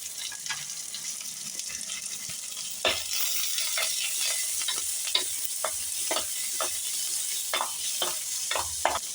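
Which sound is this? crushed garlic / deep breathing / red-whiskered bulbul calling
crushed garlic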